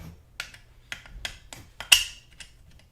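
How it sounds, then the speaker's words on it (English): A bolt being screwed into a plastic GoPro buckle mount, giving a handful of small, sharp clicks and ticks spaced irregularly and close by, with one louder snap near the end and no talking. "screw in the bolt,"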